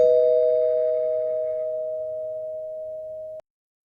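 A single electronic bell tone signals the start of an interpreting exam, a pure steady ding that rings alone for over three seconds, fading slightly before cutting off abruptly.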